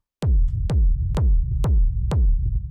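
Five hard-hitting techno kick drums at a steady four-on-the-floor pace, each a punchy low thump with a sharp click on top, heard alone and loud with no extra EQ boost applied.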